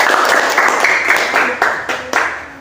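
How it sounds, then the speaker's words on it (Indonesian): A short round of classroom applause for a student group, with steady mixed clapping from a nearby crowd of students that thins out and stops after a couple of seconds. "kasih aplaus buat kelompok 2"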